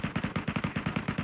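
Automatic gunfire in the battle royale game Metro Royale, a rapid burst of about eleven evenly spaced shots, loud and close, with no talking.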